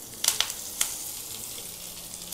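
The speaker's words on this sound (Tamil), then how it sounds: "நம்ம முதல்ல பேனில் எண்ணெயை விட்டுட்டு நம்ம முருங்கைக்கீரையை நம்ம வதக்கிக்கலாம்" Drumstick leaves sauté in hot oil in a pan, giving a soft, steady sizzle with a few brief crackles and stirring scrapes near the start.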